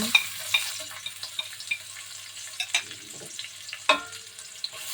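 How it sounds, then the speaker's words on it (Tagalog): Red onion with garlic and ginger sautéing in a pan, a soft steady sizzle broken by several sharp clattering stirs and scrapes, with no talking. "Gisa-gisa natin na yan para maging mabango at nangangamoy bawang at luya na siya."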